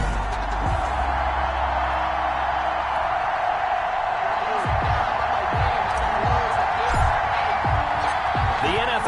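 Stadium crowd noise at a Kansas City Chiefs versus London Black Knights NFL game in an EA Sports video game: a steady crowd roar with thumping impacts, under a commentator's voice.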